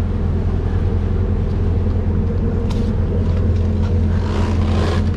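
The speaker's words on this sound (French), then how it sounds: "on a quand même fini par allumer le moteur" Sailboat engine running steadily while cruising between Caribbean islands, a loud, constant low rumble with a tonal hum, continuous throughout with no talk.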